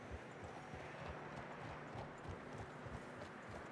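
Horse hooves clip-clop in a steady walking rhythm through snow in Red Dead Redemption 2, quiet and even over a soft wintry background hiss.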